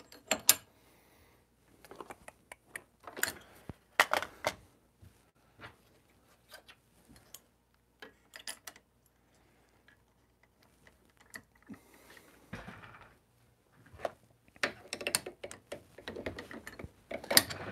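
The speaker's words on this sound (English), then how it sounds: "I'm gonna just quick throw this shell plate back on" Metal parts of a reloading press clink and click as the shell plate is fitted back on, in scattered sharp taps and short rattles separated by quiet gaps.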